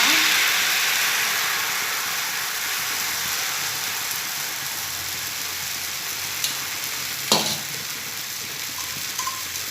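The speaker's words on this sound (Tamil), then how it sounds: "நான் இப்போ தோசை ஊற்றிக்கலாம் நினைக்கிறேன்." Kambu (pearl millet) dosa batter hisses and sizzles steadily on a hot griddle stone, a close, continuous frying crackle with a few brief clinks near the end and no talking.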